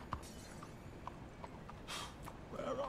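Hoofbeats of a horse in Red Dead Redemption 2 sound as a few sparse clops, with a brief whinny near the end, over low game ambience.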